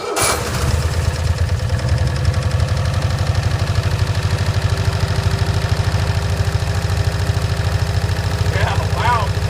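Engine of a 1965 Cushman Truckster running steadily after sitting for over a year, a loud, close, even putter with a constant rhythmic throb and no pauses, a brief higher squeal near the end.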